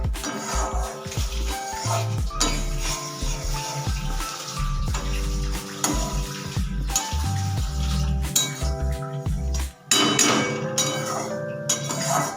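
Maggi noodles are stirred and fried in a pan, with frequent metallic clinks and scrapes from the utensil against the pan over a steady tonal background.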